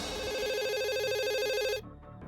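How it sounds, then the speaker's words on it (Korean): A telephone rings steadily and loudly with a warbling electronic tone, then cuts off abruptly near the end, leaving a quiet room tone; the call is to the 119 emergency line in Korea. "2년 전 어느 날 119에 걸려온 전화 한 통."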